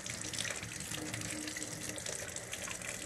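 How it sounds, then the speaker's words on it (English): Tap water runs steadily into a kitchen sink as zucchini is rinsed by hand, a continuous close splashing hiss with no talking. "So my next step is to rinse my uh, zucchini, wash it"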